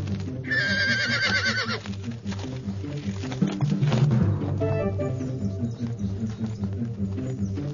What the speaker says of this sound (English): Alexander had his first glimpse of a horse named Bucephalus